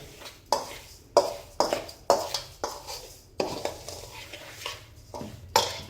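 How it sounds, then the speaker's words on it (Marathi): Spicy green chili pickle ingredients being mixed in a bowl, with irregular scraping and clinking strokes of a spoon against the bowl, close and moderately loud, without speech. "याचं सर्व मिक्स करून घ्यायचं आहे."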